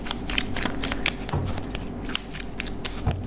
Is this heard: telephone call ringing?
no